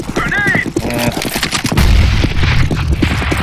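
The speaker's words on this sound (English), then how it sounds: "That was a beautiful nade." A grenade blast and gunfire in a Counter-Strike style match on the Inferno map, loud booming bursts mixed with rapid shots, with voices talking over the action.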